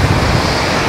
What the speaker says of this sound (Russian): Видите, вот, как я говорил, шторм начался, зеленые водоросли повыкидывало на берег.